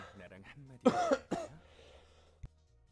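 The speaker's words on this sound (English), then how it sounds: "I just had to get some coughs out" A couple of sharp, loud coughs close to the microphone, followed by a brief quieter click, with faint talk just before.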